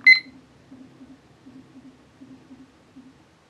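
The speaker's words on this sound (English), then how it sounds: "with a beep to let you know that you've actually engaged" One short, sharp electronic beep from a Hoinya kitchen timer's button sounds at the start, followed by a faint low hum pulsing quietly.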